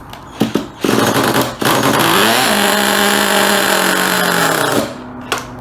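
A nitro RC car's small Picco .27 engine on an HPI Savage sputters, catches and revs in a high buzzing whine, holding steady for a few seconds before cutting off.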